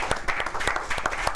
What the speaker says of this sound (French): On peut applaudir Antonin et Pierre.